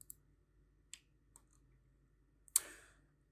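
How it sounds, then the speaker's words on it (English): Computer mouse clicks from pressing and holding the mouse wheel: a few sharp, isolated clicks spaced apart, ending in a louder click with a brief rattle, all in a quiet room. "click and hold down my mouse wheel"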